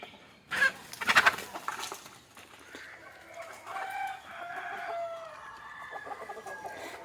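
Country chickens in a village yard, a rooster crowing amid scattered clucking, with a sharp loud burst near the start followed by steadier, moderately close calls.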